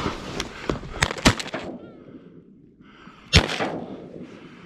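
Several sharp shotgun blasts go off in quick succession at a goose hunt in New Zealand, loud and close, with a second short burst of shots a couple of seconds later and faint talk between them.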